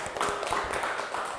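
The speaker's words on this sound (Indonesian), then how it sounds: "tepuk tangan untuk Mbak Ratna" Classroom applause for a presenter, a steady dense patter of many hands clapping across the whole moment, fairly loud and close with no talk over it.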